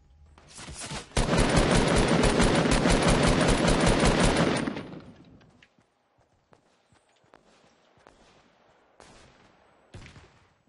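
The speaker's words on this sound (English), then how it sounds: "Every single one of those shots hit something in the way." Sustained automatic gunfire in the video game Fortnite, a loud rapid stream of shots for roughly four seconds, then fading into quiet with a few isolated sharp impacts and footstep-like taps.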